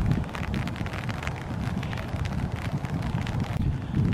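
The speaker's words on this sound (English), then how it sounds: "It's cold, windy, and raining." Cold rain and gusty wind on a wooded park trail, steady broadband hiss with low rumbling wind buffeting close to the microphone throughout, no talking.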